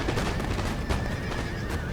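Courlander cavalry horses in the Empire: Total War video game, neighing and whinnying loudly over a dense battle din with hoofbeats and scattered musket fire.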